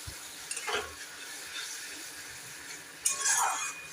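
Spice paste with turmeric is stir-fried in a pan for a coconut and pointed gourd dish, a quiet, low sizzle with two brief stirring scrapes and light clinks.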